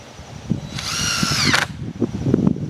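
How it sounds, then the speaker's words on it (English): A power drill whines steadily for under a second, bores into wood while building a chicken tractor, then stops abruptly against a quiet, slightly noisy background. "Make sure I'm drilling into"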